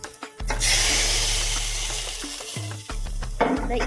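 A hot tempering of mustard seeds and curry leaves poured into a pressure cooker of green pea curry, a sudden loud hissing rush that fades over a couple of seconds, with clatter of the pan before and after.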